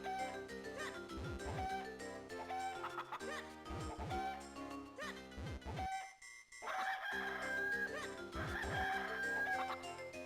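Chickens in The Legend of Zelda: The Minish Cap cluck in repeated short bursts over a bouncy game melody, with a brief lull midway before the clucking and music resume.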